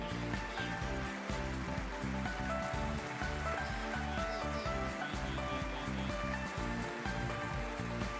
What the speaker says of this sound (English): Oh dear, we see some rain, folks.